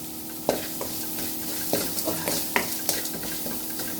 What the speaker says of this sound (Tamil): ஒரு பெரிய வெங்காயம் கட் பண்ணி வச்சுருக்கேன் அது எடுத்துட்டு கொஞ்சம் நேரம் ஒரு பாதி வதக்கினா போதும்